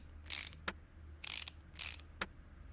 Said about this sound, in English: We're mounting new rotors in the Rona.